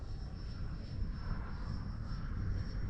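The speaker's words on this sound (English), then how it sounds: "Oh, that's a beautiful jet." FMS Futura V3 RC model jet on a 6S setup flying past outdoors, a steady broadband engine roar holding level throughout, no voices.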